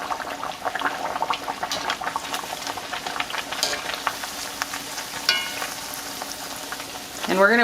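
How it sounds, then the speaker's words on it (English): Corn tortillas frying in oil in a cast iron pan, a continuous crackling sizzle with bubbling pops, close and steady, with a brief clatter toward the end. "So I'm just gonna go ahead and fry the corn tortillas"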